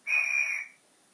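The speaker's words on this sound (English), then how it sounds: "guards whistle" A single shrill guard's whistle sound effect from a Hornby Railmaster model train, held for about half a second, then silence.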